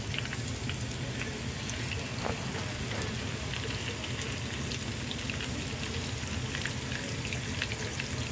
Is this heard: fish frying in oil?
yes